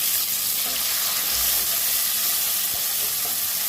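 Soaked cashews and raisins hit a hot pan and fry with a steady, close hiss and crackle. No one speaks.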